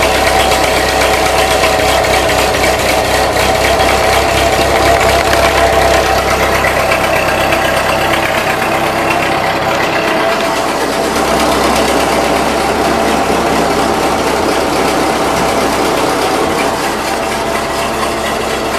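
A 1941 Ford 9N tractor engine on a 6-volt system idles close by with a steady, loud, slightly knocking chug and mechanical vibration that eases a little partway through.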